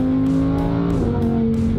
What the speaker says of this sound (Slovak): O môj bože, jak to kope. Jak to řve normálně.